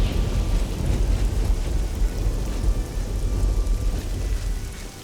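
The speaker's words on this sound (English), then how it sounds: "Well, it is raining too." Video game rain: steady heavy rain hisses without a break, with a low rumbling underneath like distant thunder, continuous and fairly loud.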